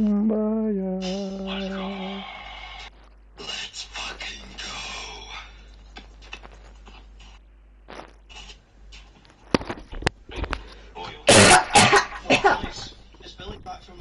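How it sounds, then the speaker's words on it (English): Loud bursts of coughing and sneezing erupt near the end, after stretches of talk and tonal game sounds during a Fortnite FNCS Finals session, harsh and close to the microphone. "Can you stop coughing so loud?"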